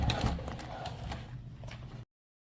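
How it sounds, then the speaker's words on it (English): Sewing machine top stitching through the fold of a clear vinyl backpack, a close, steady rapid mechanical chatter with a low hum that runs continuously, then stops abruptly into silence. "we're gonna top stitch right inside of the vinyl fold"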